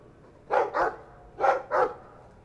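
Dog barking in the video game Dragon Age 2: two pairs of quick, mid-loud barks, each pair close together with a short gap between pairs, alone with no talk.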